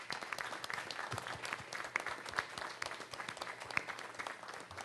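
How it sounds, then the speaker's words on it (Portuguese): At a broadcasting council meeting, attendees applaud a retiring director of Rádio Nacional do Alto Solimões with a dense, continuous crackle of many hands that sounds faint and somewhat distant, steady for about five seconds. "Eu proponho uma salva de palmas, é a nossa homenagem."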